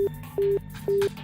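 Telephone call tone from the game Virtue's Last Reward: three short, evenly spaced electronic beeps with steady pitch, repeating at a regular rhythm, clear and alone.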